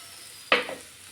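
Okra and onion masala stirred in a frying pan, one quick scraping stir over a steady soft sizzle, close and brief.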